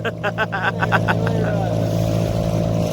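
A motorboat engine on a seaside fishing outing runs with a steady, loud, close drone after starting, while people talk over it early on.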